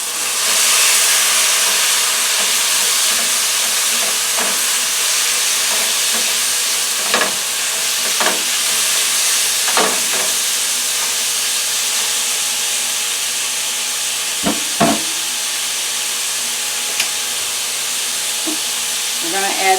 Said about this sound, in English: now we're going to add the beef.